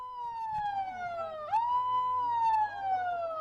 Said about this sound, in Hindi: इसी तरह से सायरन की आवाज सुन लीजिए ध्यान से